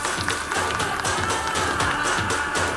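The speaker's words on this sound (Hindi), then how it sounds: "जोरदार तालियां हो जाएं." An audience at a film teaser launch event claps and cheers in a dense, steady wash of applause that carries on throughout, with faint voices mixed into the crowd noise.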